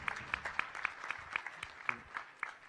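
Sparse, quiet clapping from a small audience at a startup pitching event, individual claps distinct and irregular, fairly distant, with no talk over them.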